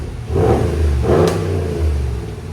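A 2022 RAM Eclipse Edition pickup's 5.7L V8 with Magnaflow exhaust and resonators revs up twice in quick succession, deep and throaty, rumbling loudly and close at about 99 decibels with a heavy low-end growl between pulls.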